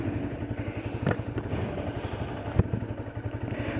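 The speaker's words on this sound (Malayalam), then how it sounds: "എക്സോസ് നോട്ട് ഞാൻ സെപ്പറേറ്റ് കാണിച്ചു തരാം" A Honda CBR 250R motorcycle exhaust gives a steady, close, throbbing low rumble at idle, with a couple of brief sharper blips standing out against the continuous engine note.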